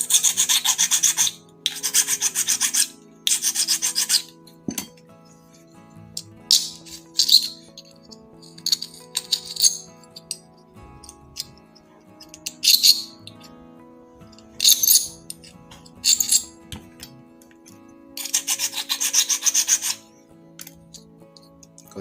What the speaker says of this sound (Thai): ได้แล้วครับผมเจาะสองฝา